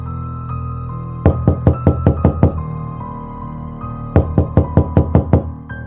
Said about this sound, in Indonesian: suara ketukan pintu terdengar lagi